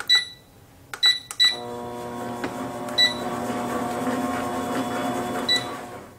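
A stand mixer whips cupcake batter for white cupcakes, humming steadily after a few sharp beeps at the start, with a continuous motor drone and faint clinks throughout.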